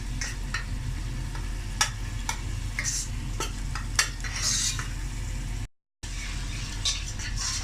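Tomato masala frying in a pan while a spoon stirs and scrapes it, giving a low sizzle broken by sharp metallic clinks and scrapes at an irregular pace, then a brief gap of silence.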